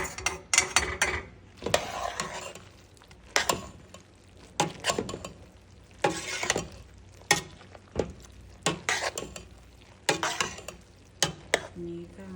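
Macaroni and cheese being stirred in a pot, close up, a series of thick, wet, squelching strokes with spoon scrapes and light clinks against the pot, coming in irregular bursts.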